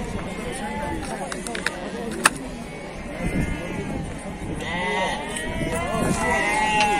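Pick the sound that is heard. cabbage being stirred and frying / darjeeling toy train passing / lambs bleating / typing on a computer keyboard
lambs bleating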